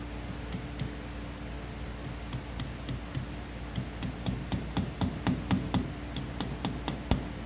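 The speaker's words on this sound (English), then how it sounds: "Take a little small ball peen hammer," A small ball peen hammer taps the tabs of an axle boot clamp on a Polaris Ranger 500, a series of sharp metallic ticks that speed up and grow louder toward the end, with no talk.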